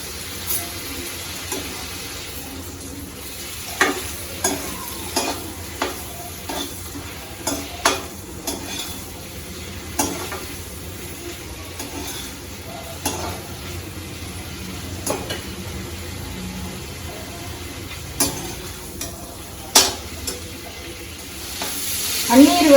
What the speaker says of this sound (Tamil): பன்னீர் வந்து நல்லா வெண்ணெயில் வறுபட்டுருச்சா